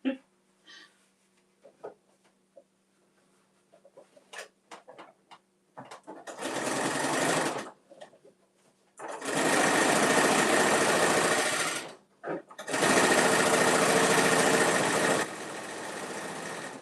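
Sewing machine stitching fabric in three long loud motor runs, close and steady, with scattered handling clicks and a brief hum between the runs.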